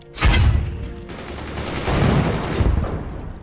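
Machine gun fire in the video game Forts, a loud sustained burst of rapid booming shots that rolls on continuously with rumbling low-end impacts, no talking.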